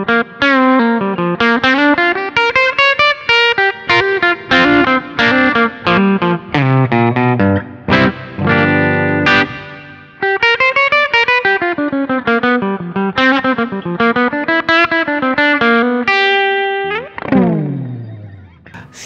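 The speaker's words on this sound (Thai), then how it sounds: "เสียงจิ๊กโก้มากเลยนะครับสไตล์ที่เป็นแบบฮัมเบอร์เกอร์ตัวหลังนะครับ" Electric guitar, a Bacchus G-Studio FM Custom, played through the full bridge humbucker with distortion and chorus effects, loud sustained lead phrases with bends and slides, ending in a falling glide.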